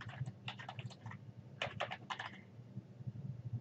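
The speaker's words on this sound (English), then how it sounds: "Now, click at the end of the sentence to continue typing." Rapid keystrokes on a computer keyboard while typing in Microsoft Word come in two quick clattering bursts, fairly faint and close, over a low steady hum with no talking.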